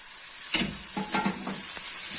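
Onions and peppers sizzle in a pan for an Egyptian omelette, with a steady hiss of frying broken by several stirring scrapes and clinks, close and alone without speech.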